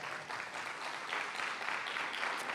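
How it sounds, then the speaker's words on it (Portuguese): Congregation at a communion service in a church clapping together, a steady, dense wash of applause that holds at an even level for a couple of seconds. "Uma salva de palmas."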